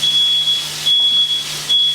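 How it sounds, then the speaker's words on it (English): A high, piercing electronic smoke alarm, set off by cooking in a kitchen, beeps in long repeated bursts, three in a row with short gaps, over a steady background hum. "Hopefully that smoke alarm turns off eventually."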